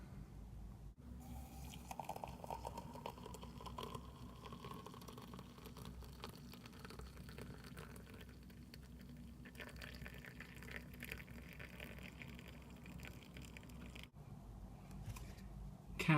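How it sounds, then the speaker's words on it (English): Water pours steadily into a coffee maker, a soft, quiet trickle that fills in continuously for several seconds. "add my water"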